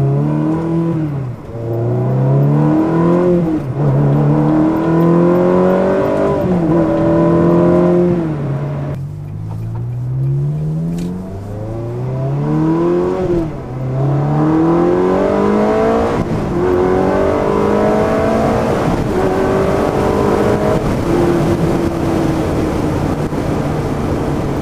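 A Ferrari 360 Challenge Stradale with an F1 gearbox revs hard, its engine note climbing and dropping again and again through quick gear changes in a loud, close, continuous wail.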